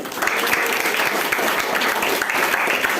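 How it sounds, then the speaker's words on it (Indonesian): Classroom students clap together for a classmate who has just solved a maths problem at the board, a loud, close burst of many hands sustained throughout without talk. "Benar ya, tepuk tangannya."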